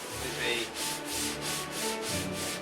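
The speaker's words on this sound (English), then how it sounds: "just a 600 light sand out." Light hand sanding with 600-grit paper on a painted model aircraft, a soft rhythmic back-and-forth rubbing of about six strokes, close and steady with no talk.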